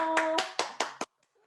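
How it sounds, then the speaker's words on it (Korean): Applause from a studio audience welcoming a guest onto a Korean talk show stage, several bursts of clapping ending abruptly, close and moderately loud. "네, 박수."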